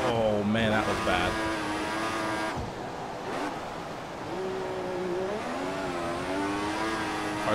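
F1 race car engines in the F1 2014 racing game whine and rev loudly and continuously, shifting pitch as cars accelerate, with a few brief pops and a voice talking over them.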